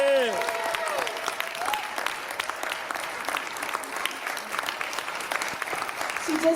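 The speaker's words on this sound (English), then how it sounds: "Give her a round of applause" Audience applause in an arts center at a Black History event, honoring a community elder; sustained dense clapping from a crowd at moderate distance, steady throughout with a brief voice at the start.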